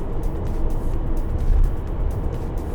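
Steady broadband engine and road roar from inside the cabin of a 2020 Volkswagen Crafter automatic van as it accelerates onto a motorway, a continuous smooth drone with no gear-change breaks and no voices.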